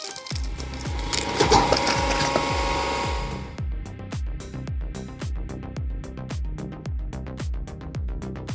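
A homemade firewood processing machine with a splitting blade runs with heavy, regular mechanical thumps about twice a second, with a dense grinding clatter at first that then thins to the steady knocking.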